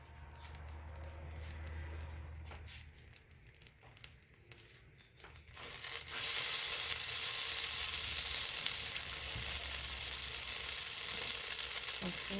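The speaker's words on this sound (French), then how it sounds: "Je vais faire revenir en fait mes oignons," Onions, bell pepper and garlic hit about 10 g of hot butter in a saucepan, bursting into a loud, steady, crackling sizzle after a few seconds of quieter rustling and clinks.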